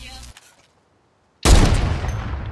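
Gunfire in a video game cuts in abruptly as a loud burst of rapid shots after a near-silent gap, following a brief stretch of game sound.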